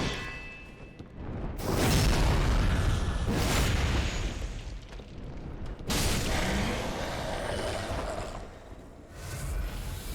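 Explosive barrels go off in Dark Souls 3 as two deep, rumbling booms a few seconds apart, each swelling and then decaying, followed by a fainter third burst.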